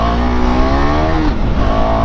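A motorbike engine revs loudly and close, its pitch climbing and then dropping as the gears shift down and the rider eases off.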